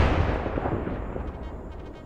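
Frag grenade blasts in a video game, a loud, dense wall of booming explosions and rumbling, sustained and slowly fading across a couple of seconds, with no voices.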